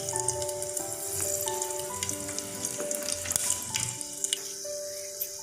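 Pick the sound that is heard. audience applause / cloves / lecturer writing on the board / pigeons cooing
cloves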